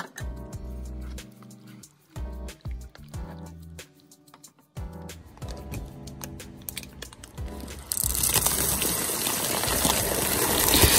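Water gushing into a pot filled with four cups for boiling macaroni noodles for cheesy goulash, starting as intermittent splashes and knocks, then becoming a steady, loud rushing pour over the last few seconds.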